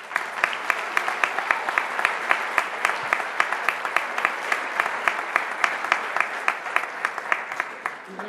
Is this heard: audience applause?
yes